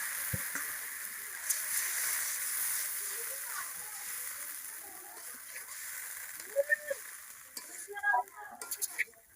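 Steady sizzling of fried onions in a pan after water is added, for a mustard pabda fish curry, with occasional scraping and stirring noises and a few sharper clinks near the end.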